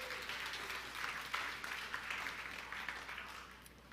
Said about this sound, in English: I want to get you guys to give yourselves a round of applause